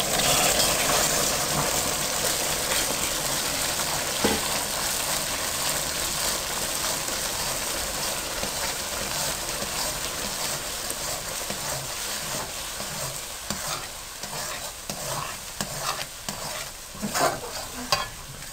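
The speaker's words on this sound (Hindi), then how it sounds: "यहाँ आपने मुसलसल चम्मच चलाना है" Semolina continuously stirred with a spoon into thick sugar syrup for makhadi halwa, a steady bubbling sizzle throughout with repeated scraping and clicking spoon strokes growing busier toward the end, no voices.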